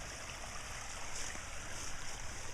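A small stream of water in an irrigation trench spills and flows continuously, a steady close-up babbling rush at a soft level with no voices.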